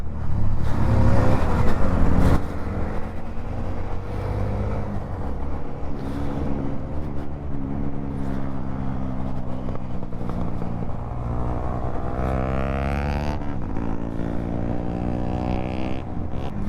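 A Honda CB 125 Hornet motorcycle on a Sunday ride gives a loud, continuous engine drone that climbs in pitch as it accelerates, with wind noise and a louder rush at the start.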